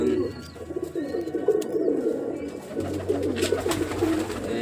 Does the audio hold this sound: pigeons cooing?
yes